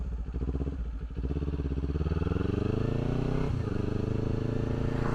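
A motorcycle turning around, the engine loud and close, dipping briefly and then climbing in a steady rev as it pulls away.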